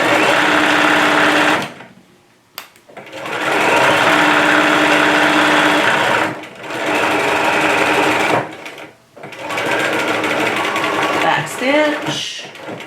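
A sewing machine stitches down an appliqued pocket in three long, loud bursts of steady whirring, each broken by a brief pause where the needle and foot lift and the fabric turns.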